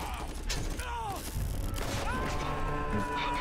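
A Hyperion rifle in the game Borderlands fires in short bursts with mechanical clatter, heard in a busy, loud mix of several quick shots and metallic effects.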